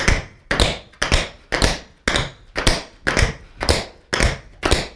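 Tap dance flaps repeat in a steady, even rhythm, about two per second, each a crisp double-edged strike on a hard floor, close and loud, with no voices.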